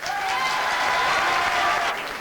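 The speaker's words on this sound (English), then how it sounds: "that's a thunderous ovation" A big Gaelic football crowd at the 1995 All-Ireland final between Dublin and Tyrone breaks into a thunderous ovation, dense sustained applause and cheering that holds steady throughout before easing slightly at the end.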